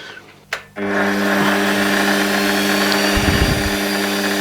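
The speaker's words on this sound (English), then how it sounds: "I've got the radius cutter lined up just a little bit further away from the outside edge, the far edge of the dowel pin." Radius cutter rounding the end of a wooden dowel peg for a wall-mounted rifle rack, a steady loud power-tool whir starting abruptly after a brief knock, with a heavier cutting rumble near the end.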